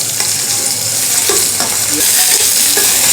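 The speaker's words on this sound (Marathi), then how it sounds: "आता यामध्ये कांदा आणि टोमॅटो घालूया कांदा टोमॅटो थोडासा भाजून घेऊया" Onion and tomato sauté in a hot pan, a loud, continuous close sizzle with repeated scraping strokes of a spoon stirring through it.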